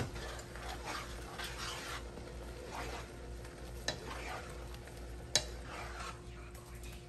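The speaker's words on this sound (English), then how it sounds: "Let me go ahead and stir it up a little bit." Turkey helper being stirred in a pan on the stove, with a steady soft scraping and faint sizzle throughout and a couple of sharper utensil knocks against the pan.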